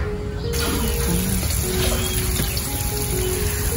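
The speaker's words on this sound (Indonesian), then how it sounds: "Nih, digoreng tahu crispy untuk cemilan hari ini" Flour-coated tofu deep frying in hot oil, a dense steady sizzle and crackle with bubbling, close by and continuous, with a brief clatter partway through and no talking.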